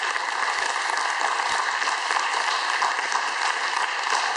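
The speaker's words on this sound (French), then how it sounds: "Donc j'aimerais que vous l'applaudissiez, s'il vous plaît." Dense, sustained audience applause at a short-film festival, many hands clapping together in a loud, unbroken rain-like roar.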